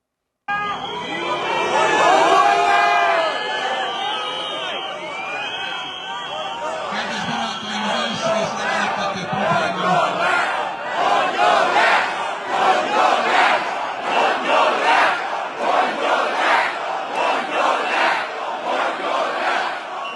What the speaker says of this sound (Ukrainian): Мітингувальники прийшли маршем від будівлі Генеральної прокуратури до парламенту, вигукуючи відставка.